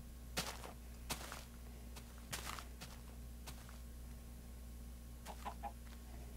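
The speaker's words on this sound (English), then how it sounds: "Chicken." Chickens in the video game Minecraft giving a few short, faint clucks spaced irregularly over a low steady hum, with light footstep-like taps between them.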